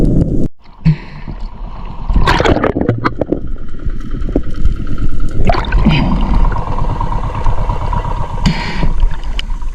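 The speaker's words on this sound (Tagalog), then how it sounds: "papalapit naman sa akin ang bangka" A small spearfishing boat putters on the sea in rain and a strong northeast monsoon wind, with a low, steady motor rumble, punctuated by splashes and knocks against the hull nearby.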